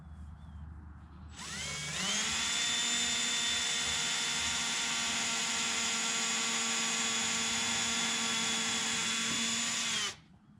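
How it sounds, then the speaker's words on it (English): Power drill pre-drilling a pilot hole in a wooden door frame for a storm door: the motor spins up sharply, holds a steady high whine for about eight seconds, then cuts off, close and loud. "mark it, and then pre-drill your hole"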